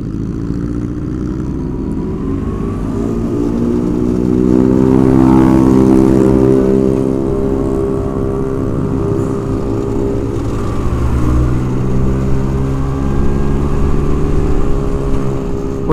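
A Vespa scooter engine drones loud and close while riding, its harmonic tone rising and falling gently as the throttle changes, with no talk over it.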